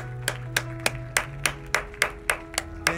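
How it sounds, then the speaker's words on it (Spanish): Claps of hands in a church service, offered as applause to the Lord, land about ten times at a steady beat, fairly close, over a sustained low tone of organ or keyboard. "Démosle un aplauso al Señor."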